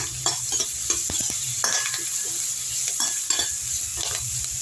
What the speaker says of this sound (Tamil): நல்லா வதக்கி விட்ருங்க இதிலே கருவேப்பிலை எடுத்து போட்டுக்கலாம்